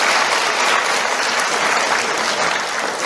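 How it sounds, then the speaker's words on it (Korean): Students in a university economics lecture hall applaud together, a loud, continuous wash of many hands clapping that holds steady for the whole stretch. "서로 박수 한번 치고"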